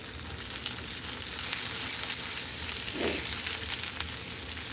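Onions fry in a lidded pan that has overheated and begun to burn, giving a dense, steady sizzle close by with no talk over it.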